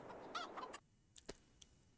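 Hens cluck and squawk in a Farming Simulator 22 chicken coop, a short run of bird calls followed by a few scattered clicks and sharp notes, faint and close with no talking.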